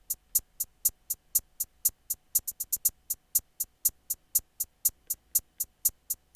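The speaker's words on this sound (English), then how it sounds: "So altogether, this is what my hi-hats sound like." Programmed hi-hat pattern from an R&B type beat made in FL Studio, with velocity changes and a quick roll. Crisp, bright ticks repeat in a steady rhythm, with a burst of faster hits near the middle. It plays alone with no talking.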